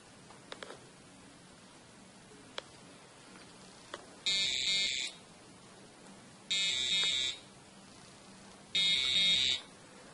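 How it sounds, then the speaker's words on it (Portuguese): Three loud electronic buzzes from an Arduino irrigation system's low water level alarm, each about a second long, sound at regular intervals after a few faint clicks, with quiet background between them. "um alarme sonoro será disparado"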